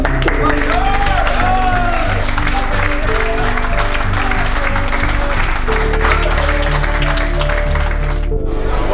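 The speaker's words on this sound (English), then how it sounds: "give yourselves, players, staff, supporters, a massive round of applause" A massive round of applause from a football club's players, staff and supporters, dense continuous clapping that fills the room loudly throughout, with crowd voices and music mixed underneath.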